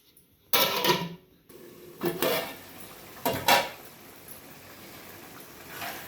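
A metal lid is set onto a cooking pot of egg omelette pulusu, with several distinct clanks and rattles spaced over a few seconds, close and fairly loud.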